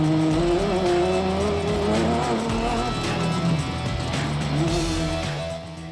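Off-road race cars in the Magalies 400 race roar close by, heard from onboard with strained, wavering engine notes rising and falling through gear changes, loud and continuous before easing off at the end.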